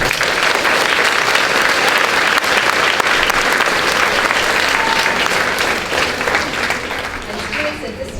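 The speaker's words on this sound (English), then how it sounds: "Please give them a round of applause." A school audience applauds staff, including the counselor, at a 5th grade send-off: steady, dense clapping that fills the room for several seconds and thins slightly toward the end.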